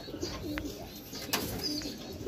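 Young pigeons coo softly at a loft before a flying session, with low repeated murmuring calls and a few faint chirps over light outdoor background noise.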